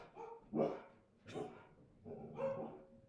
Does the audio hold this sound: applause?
no